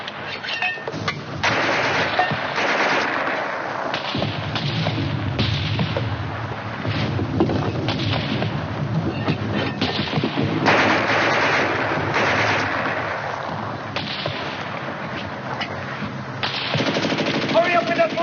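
Mortar and dense automatic gunfire in a war video game, a continuous loud barrage of rattling bursts and booms filling the whole stretch, with voices faintly mixed in.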